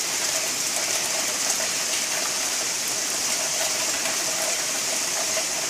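A hail storm pelts a car roof in Leiria, Portugal, making a dense, steady hiss of countless small impacts that stays loud and even throughout, with no talking.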